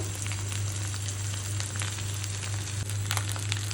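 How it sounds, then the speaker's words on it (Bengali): Eggs frying in a pan give a steady, close sizzle with crackling bursts, accompanied by a constant low electrical hum. "ডিমগুলো ভালোভাবে ভেজে নেব।"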